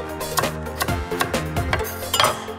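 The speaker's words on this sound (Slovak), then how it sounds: "Teraz si už konečne môžeme tekvicu nakrájať na menšie kúsky." A knife cuts a pumpkin into small pieces, making a quick series of crisp chopping knocks with short pauses between them, close and clear with no voices.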